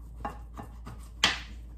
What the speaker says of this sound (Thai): มะนาวเริ่มเก่านะหั่นยาก